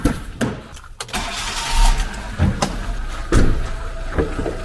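A Kia Morning car engine cranks and turns over nearby, then settles into a rough idle, with a few clunks and knocks along the way.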